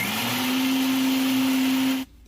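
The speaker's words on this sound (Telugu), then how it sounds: "ఇప్పుడు కొంచెం నీరు వేసి గ్రైండ్ చేసేద్దాం." Mixer grinder whirring steadily as it grinds mustard seeds with water for a fish curry paste, a loud continuous motor hum with a high whine that cuts off abruptly near the end.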